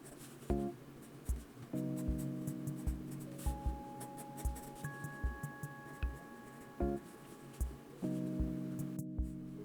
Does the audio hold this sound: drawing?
yes